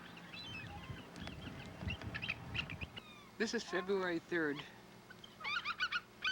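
A flock of eagles gathered at a winter feeding site in Homer gives bursts of shrill, chattering calls, heard near and clear after someone speaks over low background noise.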